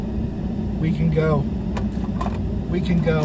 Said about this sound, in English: I'm going to pull over here and let this other car go by.